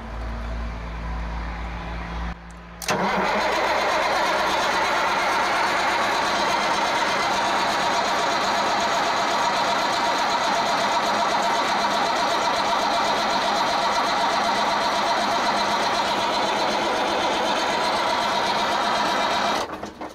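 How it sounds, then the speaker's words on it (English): A Ford CLT9000 cabover truck's engine cranks on the starter in one loud, steady, close-up run that lasts about seventeen seconds without catching, with no talking over it. "Then we're going to crank on it a little bit from down here."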